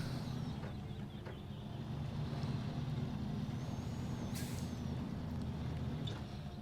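A heavy truck pulling a big load on a bad road in the video game Snowrunner grinds along with a low, steady engine drone. A short, sharp air-brake hiss cuts through partway, and faint mechanical ticks sit beneath.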